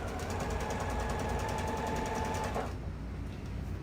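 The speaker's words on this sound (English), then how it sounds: "stretch it out, and just sew right through the elastic" A sewing machine stitches through fabric and elastic on a pair of track pants, a close, steady rapid whirring run for nearly three seconds before it stops abruptly, leaving a low room hum.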